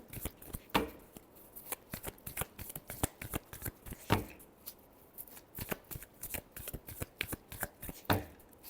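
A deck of tarot cards being shuffled by hand during a love reading, giving a steady run of quick, crisp riffling flutters and snaps with a few louder bursts, close up and with no talking.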